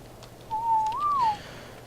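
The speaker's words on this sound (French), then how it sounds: "Je vais commencer par siffler passif pour mes dinos." A short two-part whistle from a player character in Ark Survival Evolved, issuing the passive command to tamed dinosaurs: a steady note that rises and then falls, heard alone over faint game ambience.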